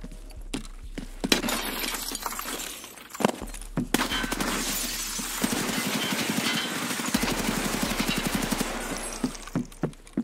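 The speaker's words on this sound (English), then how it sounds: "Okay, that glass is broken, right?" Glass breaking in Escape from Tarkov on a difficult map, heard as sharp crashing bursts with clinking shards and impacts spread across the clip, loud and close amid other game noise.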